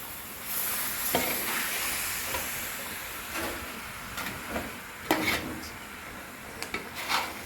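Chicken curry stirred in a pan: a soft steady sizzle beneath repeated scraping and clinking of a metal spoon against the pan, with sharper knocks toward the end, no talking.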